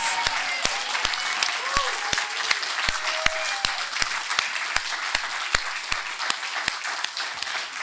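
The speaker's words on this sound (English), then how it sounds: "So let's give Tony an audible round of applause." A church congregation gives a round of applause for the longtime sound technician, a steady, fairly distant crowd clapping with a few sharp, evenly spaced louder claps standing out close by throughout.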